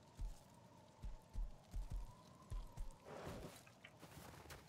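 Horse in the survival game Rust clip-clops along in a run of hoof beats, fairly close, over a steady game ambience tone, then a rougher rustling burst takes over.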